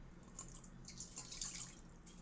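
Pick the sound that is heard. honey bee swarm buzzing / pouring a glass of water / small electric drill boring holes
pouring a glass of water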